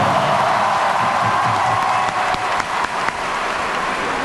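Dense roaring crowd at a football stadium during a national team match against Iraq, a sustained wall of cheering and applause with sharp claps and shouts flaring through, loud and continuous throughout.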